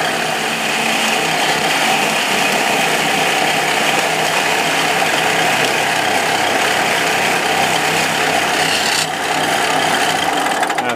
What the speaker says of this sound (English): I'm going to part this off now